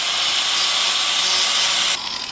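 A power tool cuts steadily through a fiberglass side skirt kit for a Nissan Skyline R32 GT-R, a loud, continuous high whine and rasp that eases off near the end.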